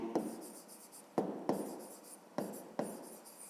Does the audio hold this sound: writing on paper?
yes